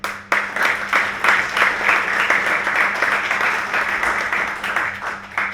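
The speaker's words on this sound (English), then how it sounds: "give yourselves all a massive round of applause" A crowd at a Men's Health Week arm wrestling event applauds loudly and steadily, with dense clapping that keeps going without a break.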